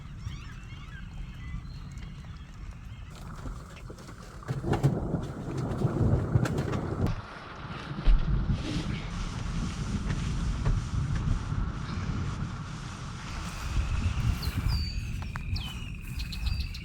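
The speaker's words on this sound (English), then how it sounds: "here comes the rain." Rain and strong gusting wind batter a truck during a storm while driving in Wyoming, a loud rumbling roar that swells and dips, with heavier bursts midway and near the end.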